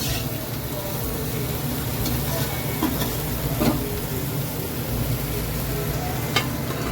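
Salted vegetables frying in a covered-style pan as they are stirred, giving a steady broad sizzle with a few faint scraping taps of the spoon, close and continuous throughout.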